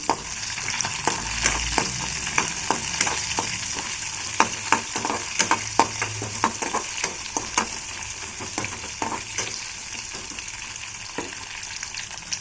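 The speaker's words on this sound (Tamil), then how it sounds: "இப்போ நல்லா வதக்கிக்கலாம்" Shallots, garlic and broken dried red chillies sautéing in oil for an eggplant tamarind curry, a steady sizzle broken by repeated scraping stirs of a spoon against the pan, close and continuous with no talking.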